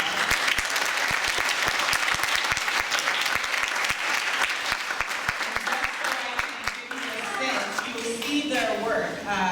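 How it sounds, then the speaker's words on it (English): A large audience at a summer learning showcase claps in a loud, dense round of applause that holds steady throughout, with a voice rising over the clapping near the end. "please give these folks just a huge round of applause"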